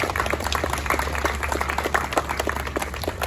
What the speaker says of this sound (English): let's give a round of applause to our sponsors who make this daily event possible